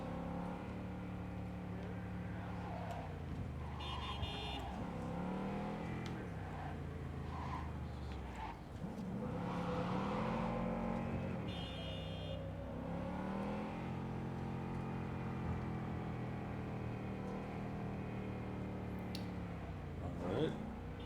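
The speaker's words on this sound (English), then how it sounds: "Thankfully, the Delamain car has a good turn radius." The Delamain car in Cyberpunk 2077 drives along with a steady engine hum that rises and falls as it revs and corners, plus a few brief skid-like sweeps, with a voice talking over it throughout.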